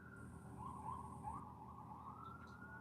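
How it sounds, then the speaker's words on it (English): A distant siren in New York wails in rising and falling sweeps over a low city rumble, faint and far off. "You hear the sirens."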